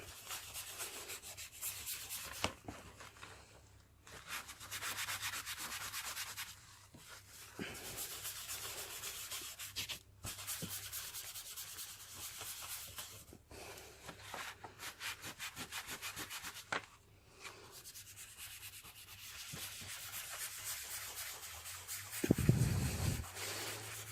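Soft pastel rubbed across paper to blend colours: quiet, close scratchy rubbing strokes in irregular bursts with brief pauses between passes, and a louder thump near the end.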